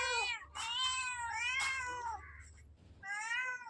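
A cat meows repeatedly up close, three or four drawn-out, wavering cries in quick succession with no talking.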